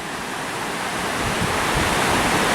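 Gentle sea waves ripple onto the shore at Freshwater Bay on the Isle of Wight under a light swell, a steady broadband wash with wind noise, close and continuous with no voices.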